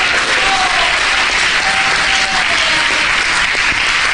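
Church congregation gives loud, sustained applause, a dense unbroken roar of many hands, with a few voices and cheers rising briefly within it.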